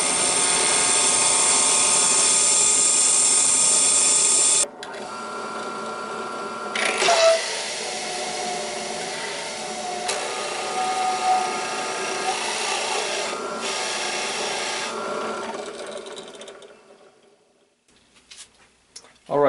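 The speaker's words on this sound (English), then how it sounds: "And now drill." A drill press bores a hole through a coin. A loud, steady mechanical whine cuts out, then the motor hums and grinds with changing pitch while the bit works the metal, and the sound winds down to near silence.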